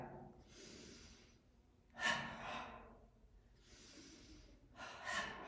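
Slow breaths during a yoga exercise raising and dropping the shoulders, two cycles of soft inhales followed by louder, breathy mouth exhales, close and quiet with no talking.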